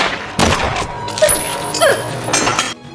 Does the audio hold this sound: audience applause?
no